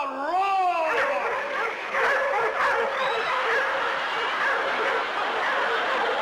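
Several dogs bark and yip excitedly in a radio drama, a lively cluster of high yaps and whimpers rising over a crowd-like background and close to the listener.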